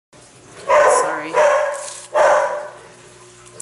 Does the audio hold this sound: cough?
no